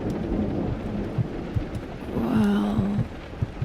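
A thunderstorm with steady rain hissing and a low, rolling rumble of thunder swelling midway, fairly close and unbroken by talk.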